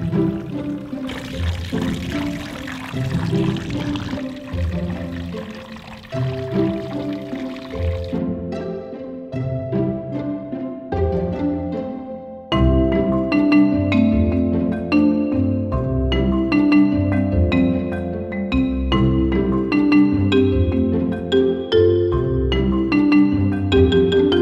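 A water pump rated at 14,000 liters per hour drains a field ditch, its outflow a continuous loud pouring gush layered with steady tonal hums, and the sound grows fuller after a shift partway through.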